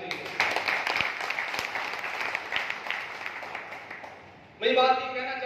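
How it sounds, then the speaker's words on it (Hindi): An audience at a gathering at Gopal Sadan in Sikar claps in a steady, dense wash of applause for several seconds, which fades as a voice starts speaking close by. "ऐसे प्लेटफॉर्म के नाम तालियां होनी चाहिए।"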